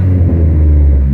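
Short, loud, close burst of a Dodge SRT-4 engine with new exhaust, a deep rumbling rev.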